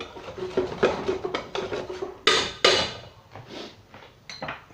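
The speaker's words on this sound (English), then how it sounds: "Just keep stirring it about." A spoon stirs mac and cheese in a pan, scraping and knocking against the metal in uneven strokes with a few sharper clanks, close and fairly loud with no one speaking.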